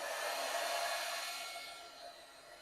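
A heat tool blows a steady, fairly loud rushing hiss of hot air while melting embossing powder on a fall card, holding constant and easing slightly softer toward the end, with no talking.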